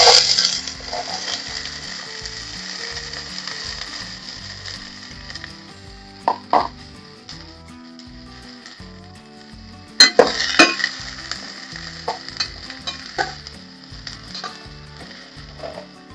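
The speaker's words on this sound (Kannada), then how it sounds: "ಸೊ ಇದನ್ನ ನಾವು ಫುಲ್ ಎಣ್ಣೆಲಿ ಸ್ವಲ್ಪ ಫ್ರೈ ಮಾಡ್ಕೊಳ್ಳೋಣ" Beans frying in plenty of hot oil in a pan give a steady close sizzle and crackle, broken by sharp clinks and scrapes of a spoon stirring against the metal.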